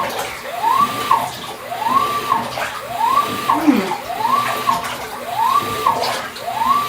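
A GE top-load washing machine running with water, its agitator sloshing in a steady repeating swish about once a second, loud and close, with no voices.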